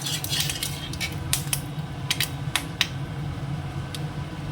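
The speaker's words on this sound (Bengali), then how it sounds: "এখনও ডিমগুলো গুঁড়ি গুঁড়ি আছে বলে ফাটছে ফটফট করে" Fish roe frying in hot oil in a wok gives a steady hissing sizzle broken by scattered sharp pops and crackles, close by, with no talking.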